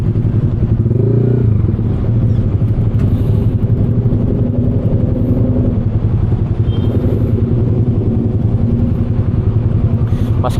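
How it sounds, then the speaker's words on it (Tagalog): Road traffic of motorcycles and cars on a rough, jammed road: a steady, loud, close rumble of engines and tyres fills the whole stretch, with no pauses and no clear voices. "Maski motor nata-traffic dito."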